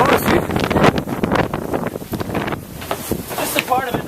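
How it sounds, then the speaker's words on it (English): Strong outdoor wind buffets the microphone in loud, continuous gusty rumbles and pops, with voices talking underneath. "I can't hear you. It's too windy."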